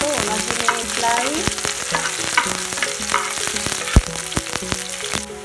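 Onions sizzle loudly and continuously as they lightly brown in a pan for a Nepali curry, with scraping stir strokes throughout and one sharp clunk partway through.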